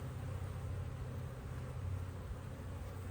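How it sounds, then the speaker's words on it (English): Honeybees swarm over the opened frames of a hive holding brood and nectar, making a steady, dense buzzing hum that stays even and close throughout, with no voices. "A bunch of bees."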